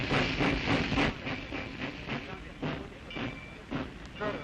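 A train on the rail line to the French port of Djibouti during the 1935 Italo-Ethiopian War gives a steady, rhythmic clickety-clack of wheels over rail joints, with hissing running underneath.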